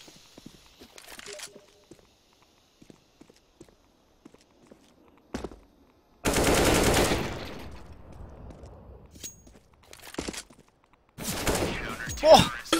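Gunfire in the video game CS:GO comes in sharp bursts of rifle shots, separated by quiet stretches with light footsteps and small clicks. The shots are loud and close, and there is occasional talk.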